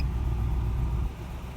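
The engine of a 2004 Toyota Tundra with a camshaft position sensor fault idles steadily as a low, close rumble. Its level eases slightly partway through the short stretch.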